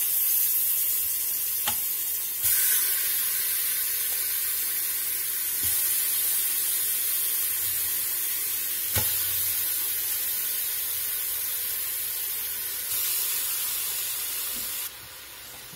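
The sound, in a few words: pork shoulder searing in olive oil in an Instant Pot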